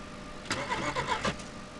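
A car engine in the video game DayZ cranks and catches, a short burst of starter whirring and engine rumble rising over a steady background hum, heard alone and fairly close.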